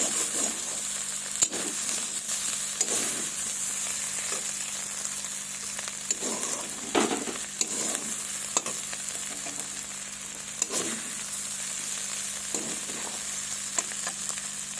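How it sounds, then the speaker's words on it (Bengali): Winter vegetables fry slowly with spices in a pan, giving a steady, moderate sizzle with occasional clinks of stirring against the metal, and no voices. "এইভাবে আর একটু আমি লাল লাল করব, আস্তে আস্তে ভাজতে হবে।"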